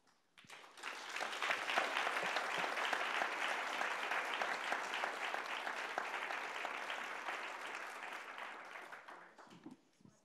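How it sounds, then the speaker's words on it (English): A conference audience applauds the panelists in a sustained burst of clapping that swells quickly, holds dense and steady for several seconds, then tapers off, filling the hall with no voices on top. "maybe you could just give a little round of applause to the fantastic panelists"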